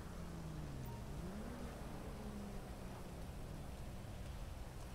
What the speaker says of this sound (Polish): tu już noc i deszcz